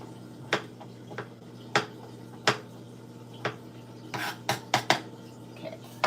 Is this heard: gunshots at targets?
no